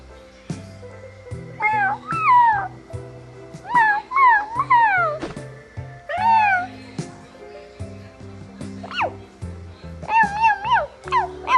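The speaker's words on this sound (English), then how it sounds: "Why is the cat meowing like that?" Cartoon cat meowing in a Toca Boca game during a snowstorm scene, several drawn-out rising and falling meows in bursts over a low synthetic music backing.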